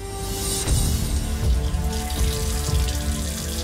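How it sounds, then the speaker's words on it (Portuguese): Water runs steadily from a bathroom tap for handwashing, a continuous rushing splash with a few louder gurgling surges, close and without talk. "Ah, o barulho da torneira."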